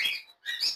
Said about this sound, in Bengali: প্যাটাগিনিয়ান ফিমেল পাখি ডিএনএ করা।